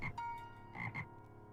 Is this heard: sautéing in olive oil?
no